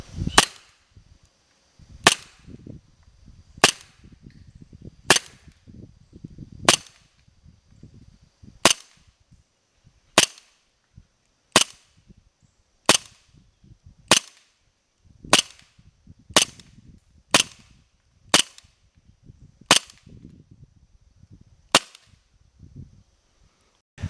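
Sharp single gunshots from an RWA Nighthawk Custom Covert Ops M1911 pistol crack out about a dozen and a half times at irregular intervals outdoors, each loud and clipped, with faint low rustling between shots.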